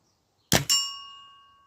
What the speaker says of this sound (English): when I take aim up here you should hear a bell